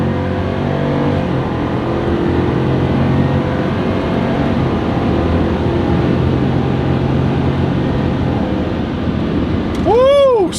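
The V8 of a stock Ford F150 with a 10-speed transmission roars loud and sustained through a dyno pull, climbing in pitch toward the end, with people talking over the engine noise.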